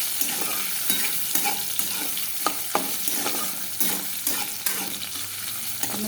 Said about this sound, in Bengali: আলু পেঁপেটা দিয়ে দিই, এটা ভাজা ভাজা হোক